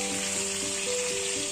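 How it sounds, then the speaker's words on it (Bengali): Sliced ridge gourd frying lightly in a salted pan, a soft, continuous sizzle with a low hum in the background, fairly quiet and steady with no talking. "যতক্ষণ ঝিঙেটা ভাজা হচ্ছে"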